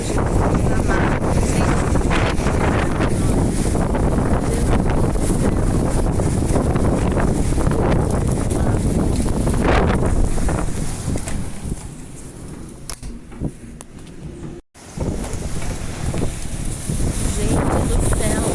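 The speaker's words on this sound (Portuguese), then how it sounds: "olha a velocidade do vento" Strong wind from a dust storm sweeping across São Paulo state roars continuously into the microphone, loud and buffeting, easing briefly near the end before gusting again, with speech mixed in.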